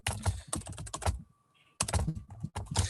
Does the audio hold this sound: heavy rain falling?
no